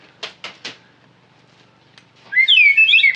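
After three quick knocking taps, a slide whistle wavers up and down in pitch for about a second, loud and close, with no voices.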